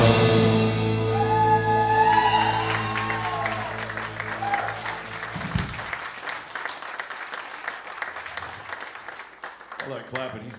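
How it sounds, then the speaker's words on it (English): Audience applause at a comedy show rises out of fading music, then carries on as a steady, moderately loud patter of many hands for several seconds before thinning out. "All that clapping, that's gotta hurt."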